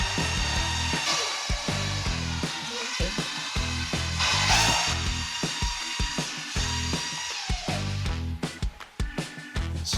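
A power mixer stirs a two-part metallic epoxy coating for a concrete floor, giving a close, loud whirring drone with irregular knocking and scraping pulses as the paddle works the bucket, without talk.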